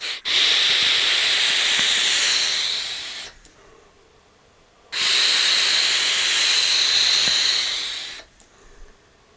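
Two long, loud hissing draws from a Wismec Predator 228 vape kit with a 0.5 ohm build at 55 watts and bottom airflow, each lasting about three seconds and separated by a quiet pause.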